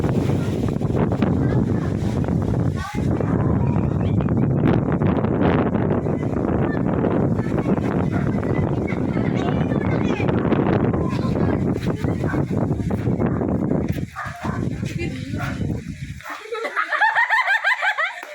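Strong wind from a typhoon buffets the microphone in a loud, steady roar, with young people's voices and water sounds faintly underneath; it drops away near the end.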